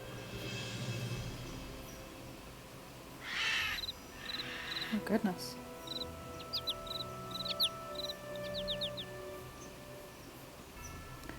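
Bird calls in the video game Nancy Drew: Ghost Dogs of Moon Lake, a series of short repeated chirps and whistles over a quiet ambient background, with a brief spoken exclamation.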